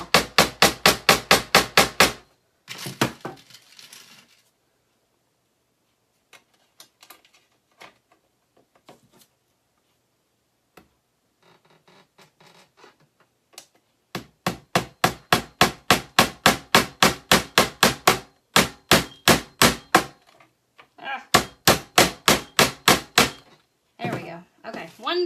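Rapid bursts of sharp hammer blows drive nails, some at an angle, into scrap wood letters, with quiet pauses between the series of rhythmic knocks.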